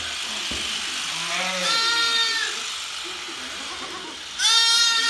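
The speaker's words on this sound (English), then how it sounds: "Poor sheep, eh?" Sheep bleat during shearing: two or three wavering, nasal bleats, near and fairly loud, over a steady low buzz that fits electric shears.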